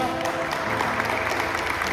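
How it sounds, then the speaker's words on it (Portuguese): A congregation at a church service claps steadily in a continuous patter, with faint voices and worship music underneath. "Sabe, você pode aplaudir o Senhor nessa manhã."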